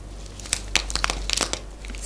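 A Thrive Market snack package is crinkled and crushed up close, giving sharp crackling bursts and crunchy plastic rustles in an irregular rhythm over a quiet background.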